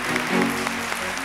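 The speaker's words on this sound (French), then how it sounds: "on le reçoit maintenant, on l'applaudit très fort" A studio audience on the game show Défi Gagnant applauds a contestant's arrival, a brief, dense burst of clapping from many hands.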